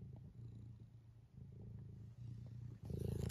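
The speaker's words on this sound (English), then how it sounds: "Purring isn't going to help, is it?" A cat purrs steadily up close, a low rumbling drone with a rhythmic in-and-out pulse, growing louder near the end.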